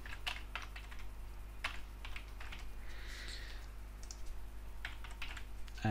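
Quiet typing on a computer keyboard while entering a WordPress page title, irregular clicks in short runs over a steady low hum, with no talk.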